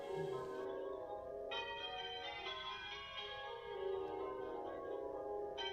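Half-muffled church bells of St John the Baptist, Brinklow, ringing in a slow sequence with a dulled, muffled tone, heard from inside the building with no talking.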